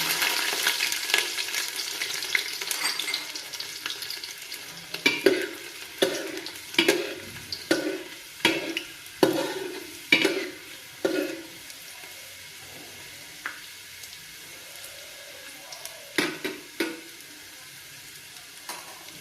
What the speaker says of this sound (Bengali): রসুনটাও খুব ভালো করে ভাজা হয়ে গেছে